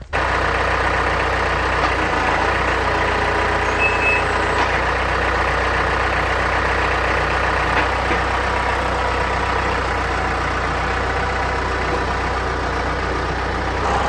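Tractor engine idling and running steadily while a newly fitted front grapple is tried out, a constant close mechanical drone with no talking.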